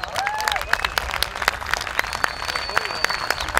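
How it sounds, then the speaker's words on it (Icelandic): An audience at a 2012 youth-category competition claps steadily and loudly, with sharp individual claps and rising whistles and cheers cutting through the crowd noise. "eigum við ekki að gefa þeim gott klapp"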